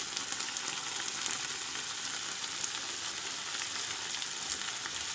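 Onion sizzles and fries in hot oil with salt in a pan, a steady, even crackle and hiss that carries on without pause and without any talking.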